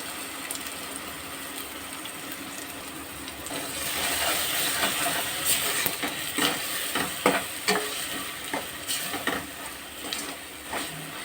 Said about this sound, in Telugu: ఇప్పుడైతే టమోటా ఉల్లిపాయ పేస్ట్ని వేసుకోవాలి